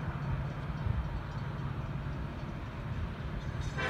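Southbound Norfolk Southern intermodal freight train rolling past on track 1 in Cornelia, Northeast Georgia, a steady, loud rumble of wheels and cars close by, continuous throughout with no horn.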